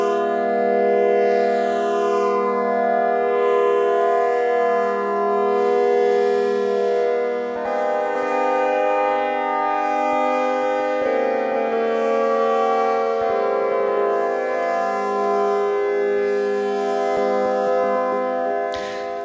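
A sustained synth minor triad chord made in Ableton Live, with a delay effect, held loud and steady for about twenty seconds. Its tone shifts several times as it rises and echoes smear across the notes.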